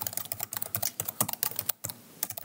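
Rapid, irregular keystrokes on a computer keyboard while entering vCenter server credentials, close and crisp, with brief pauses between bursts of typing and no voices.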